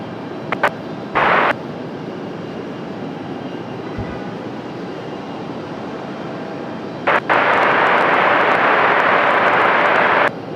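An airliner on takeoff roll at Raleigh Durham airport, its engine roar swelling loud and steady in the last few seconds after a brief earlier burst and a long low rumble.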